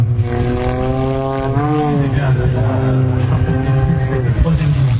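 Propeller aerobatic airplane flown by an army aerobatic team pilot at an air show, its engine droning loudly and continuously with a rising and falling pitch as it maneuvers, and a voice speaking over it.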